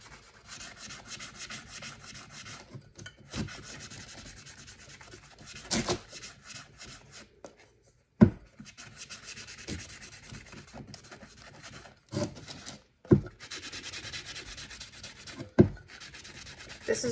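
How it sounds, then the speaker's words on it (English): Well-worn 80 grit sanding sponge rubbed over a tumbler, a steady close scratchy rasp in repeated strokes, broken by a few short pauses and light knocks. "This is just an 80 grit sanding sponge that has been very much loved"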